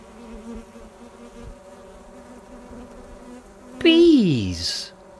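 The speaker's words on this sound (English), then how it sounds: "Instead of using toothpaste, why not use bees?" Bees buzz in a low steady hum under faint background noise, then a loud swelling buzz sweeps downward close up near the end.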